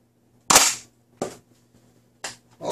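An Adventure Force Double Fire toy blaster fires: sharp, loud, close pops, about four shots in uneven succession with silence between them, and no talking.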